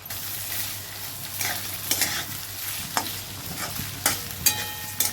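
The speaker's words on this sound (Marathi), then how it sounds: "आपला भात परतून झालाय." Soaked rice sizzles steadily in a hot pan while a utensil stirs and scrapes through it in repeated strokes, with no talking.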